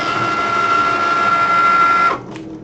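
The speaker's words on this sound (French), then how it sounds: "L'outil de gravure a été reconnu par la machine et ça me dit que je n'ai plus qu'à appuyer sur le bouton Cricut pour lancer le démarrage" A Cricut cutting machine engraving plexiglass for a Christmas-themed piece runs with a steady mechanical whir and a sustained tonal hum for about two seconds, then the motor noise cuts off abruptly, leaving a brief quieter tail.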